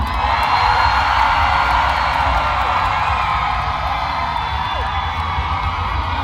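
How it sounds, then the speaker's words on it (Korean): A large concert crowd at an outdoor music festival cheers and whoops loudly and steadily, a dense wall of voices that stays at full level and stays close. "진정성 있는 환호성 부탁드리겠습니다"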